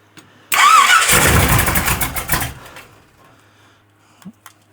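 A small engine fitted with a cheap Temu carburetor cranks and fires without choke, running loud and rough for about two seconds before cutting out, followed by quiet with a couple of faint knocks.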